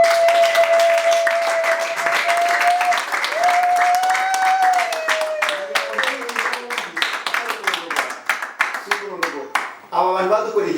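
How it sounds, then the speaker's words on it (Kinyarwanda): An audience applauds at a theology diploma graduation ceremony; loud, dense clapping rolls on under a sustained tonal voice or note, then thins into distinct, sharp individual claps near the end. "Nimukobere Imana amashyi."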